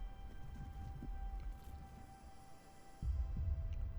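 A giant creature carrying a village on its back moves in The Wandering Village video game, giving off deep, muffled, heartbeat-like thumps over a low hum. The thumps come in slow pulses, fade midway, then return stronger.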